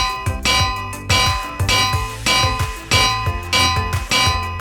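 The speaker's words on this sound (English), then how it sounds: "Now I'll go ahead and hang some bells around." Minecraft bells placed while building a video game house, ringing in a rapid series of about seven bright metallic dings, each with a short ringing decay, loud and close with no talk.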